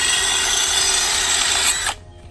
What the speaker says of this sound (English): 3 times, you grind it with this wheel.